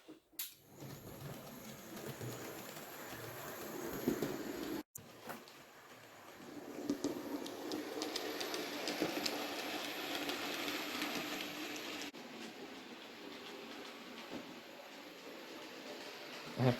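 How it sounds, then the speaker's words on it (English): Vintage model train wagons, including an LSWR brake van, roll through a model railway layout, a steady close rumble with light clickety-clack and small clicks, briefly dropping out near the start before running on evenly. "that is a marvellous sight as the vintage train goes through Beaglington"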